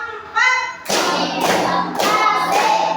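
A brief group voice opens, then schoolchildren in a classroom clap their hands together in a steady rhythm, with four or five loud, evenly spaced bursts close by.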